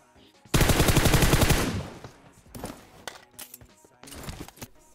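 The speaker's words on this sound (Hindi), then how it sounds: "मैं 30 की 30 गोली अपनी स्कारल की पूरी बर्बाद करता हूँ उस पर" A SCAR-L assault rifle in PUBG Mobile fires a loud, rapid automatic burst of close gunfire lasting over a second, followed by scattered shorter shots and clicks.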